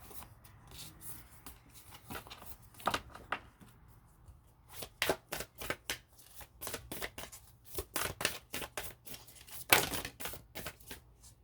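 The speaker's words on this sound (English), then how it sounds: "Let's get one for the Whispers of Love deck." An oracle love card deck is shuffled by hand, starting faint and then building into a run of quick, crisp riffles and card taps that stay close and fairly quiet, with no voice.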